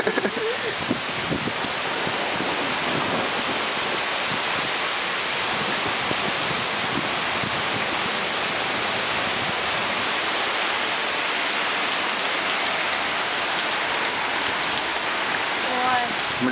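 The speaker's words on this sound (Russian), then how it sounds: "Небольшой дождичек в Риме." Steady rain pours down over a street in Rome, a dense, even hiss of drops that fills the whole stretch without letting up.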